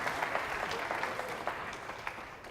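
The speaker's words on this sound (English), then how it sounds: "Round of applause for them." Applause from an audience at a team captain lecture, a steady dense wash of clapping with sharp individual claps standing out, continuous and moderately loud throughout.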